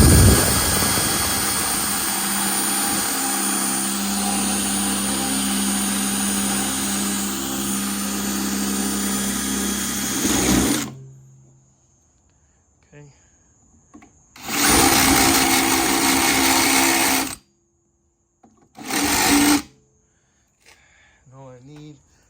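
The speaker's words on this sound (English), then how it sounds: "I'm going to be drilling a notch or some form of a hole right here" A power drill bores a notch through the plastic of a Hammer Head cart to fit a zip tie, a loud steady whir running about ten seconds, then two shorter bursts after a pause.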